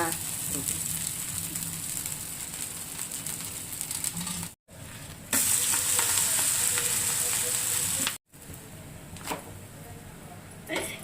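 Ragi rotti fries in oil on a pan, giving a loud continuous sizzle with brief breaks and light stirring or scraping, while a voice talks at times.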